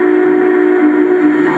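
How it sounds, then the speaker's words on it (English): An MTH model train engine sounds its whistle, a steady, loud chord of sustained tones held without a break for the whole moment, with no voices. "you can issue commands like blowing the whistle"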